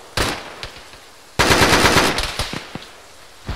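Video game gunfire in a Russian military setting: a short burst, then a sustained loud automatic volley followed by scattered single shots and a final crack, close and dominant, with no talking.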